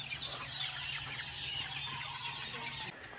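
Young pullets and stags at a game farm cluck and peep together in a continuous, busy chorus, close by and fairly loud, with no talk over it.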